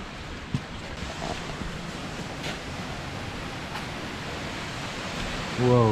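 A distant large waterfall on a forest trail among sandstone rock formations in Czechia, heard as a steady, broadband rushing roar that stays even throughout, growing slightly louder near the end.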